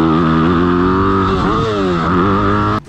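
A motocross motorcycle engine roars steadily at close range, pitch rising and dipping as the rider works the throttle on an Italian track in Trofarello, then cutting off abruptly at the end.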